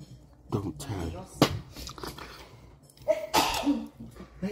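Sneezes burst out near the microphone several times amid casual chatter, loud sharp bursts against lively talk in a room.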